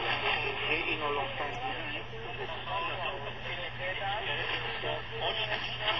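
Muffled radio reception from a Tecsun PL-606 portable receiver, a steady broadcast voice heard through a small speaker with constant hiss and a low hum underneath, continuous and moderately loud throughout.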